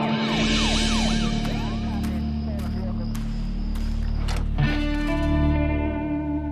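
An ambulance siren wails in rising and falling sweeps, distorted and processed, then fades under a sustained electronic tone and sharp effects.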